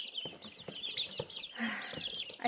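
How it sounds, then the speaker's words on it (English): Chickens clucking close by, short irregular clucks and squawks with a rooster-like voice over a busy barnyard background. "I think it's a rooster."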